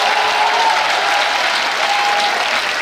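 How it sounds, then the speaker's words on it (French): A standing congregation at a religious testimony gathering gives loud, dense applause in acclamation, a continuous close wash of clapping with a faint tonal whistle or cheer rising above it. "On se lève pour donner l'acclamation à Jésus."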